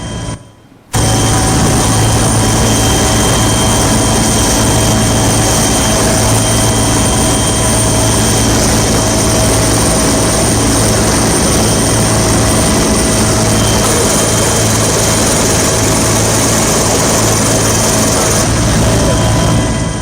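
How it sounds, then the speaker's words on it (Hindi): Helicopters flying low over the Mahakumbh 2025 gathering while showering flower petals, a loud, constant roar of rotors and engines filling twenty seconds after a brief quiet start. "हेलीकॉप्टर पहुंचे और हेलीकॉप्टर ने पुष्प वर्षा शुरू की"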